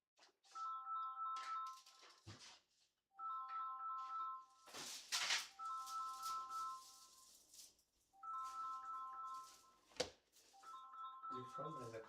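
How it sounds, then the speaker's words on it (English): An incoming-call ringtone plays a repeating tonal chime pattern in a home kitchen during candy making, several rings in a row broken by a few knocks and thumps. "Your phone has a call."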